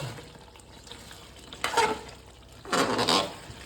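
Curry gravy stirred in a pan, two short bursts of spoon scraping with a soft sizzle between them, close and moderately loud, no voices.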